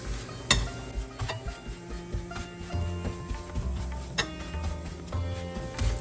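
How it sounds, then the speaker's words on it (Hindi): A paratha fries on a pan over a medium flame, with soft sizzling under sharp, irregular clicks and scrapes as a spatula presses and turns it. "स्पैचुला से आप प्रेस करते जाए और रोटेट करते जाए, घुमाते जाए"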